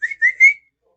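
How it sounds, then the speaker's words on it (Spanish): A farmer's whistle by a dog kennel: three quick rising tones close together, clear and near, then silence. "y el granjero silbó"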